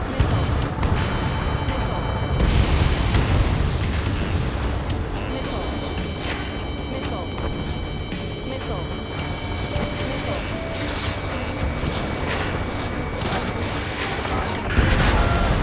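Missile launches and explosions in the jet combat video game Ace Combat 7: Skies Unknown, a loud continuous roar with repeated booming bursts, and radio voices talking over the action.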